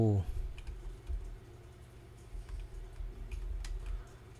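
Keys on a computer keyboard are tapped in scattered, quiet bursts of clicks over a low steady hum, close and fairly faint.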